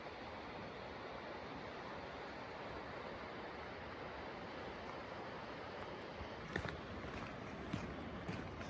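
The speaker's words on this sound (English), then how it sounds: "There's the Trinity River." The Trinity River runs through a canyon among redwoods, a steady broadband rush of flowing water heard alone and unbroken throughout, with a few faint knocks near the end.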